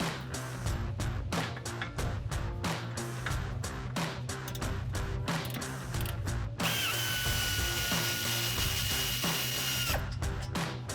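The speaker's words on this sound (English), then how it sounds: "let me get my air ratchet in here" An air ratchet works on the suspension of a 1994-2004 Mustang, buzzing in rapid repeated bursts up close, then running in one long continuous whir before a few more short spins.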